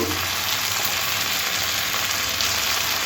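Spinach and puti fish frying with ginger-cumin paste, turmeric and chili powder, a loud, dense, continuous sizzle close to the pan with a faint low rumble beneath, no voices.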